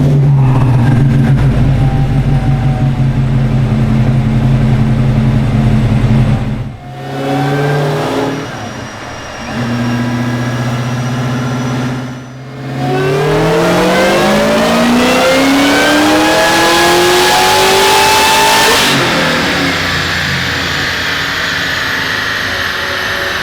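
Pontiac Trans Am V8 revving loudly and close, pitch sweeping up and down through several pulls with brief drops between, a slipping belt adding a rising squeal over the engine.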